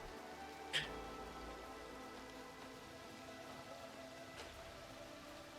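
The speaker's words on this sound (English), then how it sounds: "It's raining, it's pouring." Rain falls in the video game Outward as a soft, steady hiss, faint and continuous, with a brief tap near the start and no speech.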